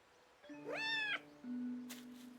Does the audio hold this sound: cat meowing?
yes